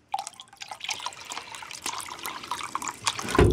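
Water pours into a lightweight concrete mix with acrylic fortifier, a close splashing and trickling stream running steadily for a few seconds, ending with a louder clunk.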